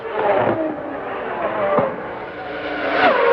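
Formula One race cars from the 1993 Brazilian Grand Prix running down the front straight, a steady loud engine roar with rising and falling pitch sweeps as cars pass, continuous throughout.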